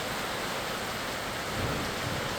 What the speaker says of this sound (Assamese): নেৰানেপেৰা বৰষুণ ধুমুহা আৰম্ভ হৈছে